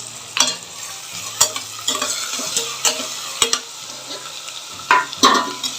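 Tomatoes with ginger-garlic paste sautéing in a pan for veg biryani, a continuous gentle sizzle punctuated by regular sharp scrapes and taps of a spoon against the pan.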